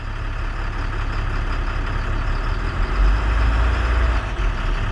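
A tractor-trailer truck with an automatic transmission, parked on its brakes, gives a loud, steady diesel drone that swells briefly as the throttle is pressed, with no talk.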